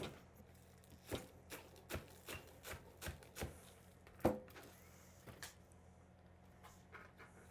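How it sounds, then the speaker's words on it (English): A knife chops green onion on a cutting board in a steady run of about a dozen sharp, close taps with short gaps, one hit louder than the rest. "I've got some, a little bit of green onion here. Let me cut this up real quick back here."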